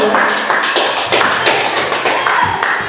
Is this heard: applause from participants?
yes